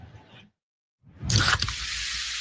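Pepsi Zero Sugar cola fizzing and hissing close up, a brief low rumble then silence before a bright, loud carbonated rush bursts in and settles into a sustained crackling fizz.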